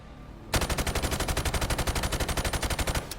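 A G36C rifle in Call of Duty fires a long, rapid automatic burst of evenly spaced loud shots lasting about two and a half seconds, then stops abruptly.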